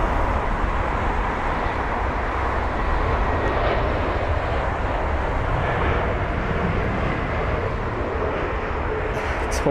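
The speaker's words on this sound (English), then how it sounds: "It's going to be a British Airways A321 Neo from Dublin, a 56-minute long flight time." A British Airways Airbus A321neo jet lands at Heathrow after a short flight from Dublin, its engines giving a steady, loud broadband roar that holds evenly throughout with no voices over it.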